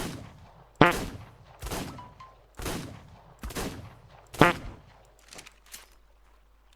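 Gunfire from a weapon in the video game ARK Survival Evolved, five sharp shots spaced about a second apart, each with a short echoing tail, fairly loud against a quiet background.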